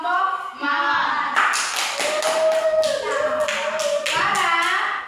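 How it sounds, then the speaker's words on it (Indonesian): A classroom of children applauds a group, a sustained burst of clapping with shouting and voices mixed in, close and lively. "sekarang berikan aplaus kepada kelompok mawar"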